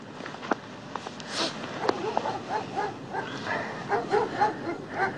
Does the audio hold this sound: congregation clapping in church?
no